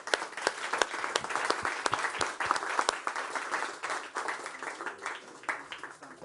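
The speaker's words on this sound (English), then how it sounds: "A round of applause, please." An audience at a World Economic Forum event in Davos claps for the panel, fairly quiet and distant, with sharp individual claps over a steady patter that thins toward the end.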